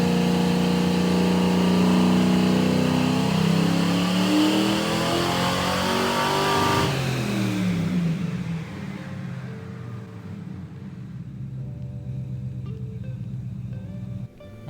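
A 1974 Nova V8 engine roars under load on a dyno, climbing steadily in pitch and volume through a full pull before the revs drop sharply and it settles into a lower, rumbling idle.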